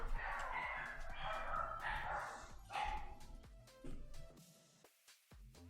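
A dog alarm sounds off indoors in a workshop, with bursts of electronic barking, some crowing-like calls, and clattering, loud for several seconds before dropping away to near silence.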